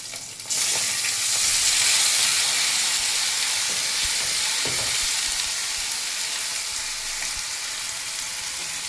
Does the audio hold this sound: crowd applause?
no